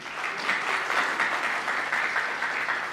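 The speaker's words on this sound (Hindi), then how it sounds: "कि जोरदार तालियां हो जाए" An audience claps steadily at a book launch event, a dense, even wash of applause from a crowd with no talking over it.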